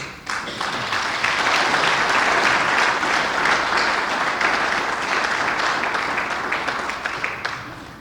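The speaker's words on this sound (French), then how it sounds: "Je vous applaudis." Sustained applause from a sizable crowd, rising quickly, holding steady for several seconds, then tapering off toward the end.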